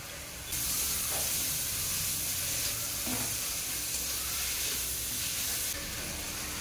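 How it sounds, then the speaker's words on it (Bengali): Steady sizzling and frying of spices with tomato and grated ginger in a hot pan, a continuous hiss with faint stirring scrapes, close and moderately loud. "এই সময় মশলা তো কষানো হচ্ছে"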